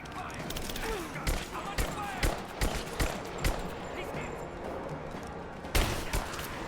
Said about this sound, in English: Perfect headshot with a pistol.